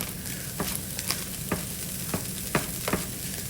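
Fried rice with egg, green onions and red onion sizzles steadily in a hot pan, with sharp scraping and tossing clicks from stirring scattered through the continuous crackle, close and fairly loud with no talking.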